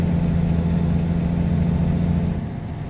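A Volvo truck engine in American Truck Simulator drones steadily with a low, even rumble throughout, easing slightly quieter just before the end.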